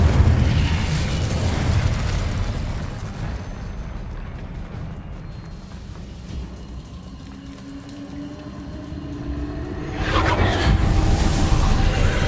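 An Incendio fire spell cast in Hogwarts Legacy: a dense, roaring whoosh of flame that fades to a lower rumble, then swells again with a rushing burst near the end.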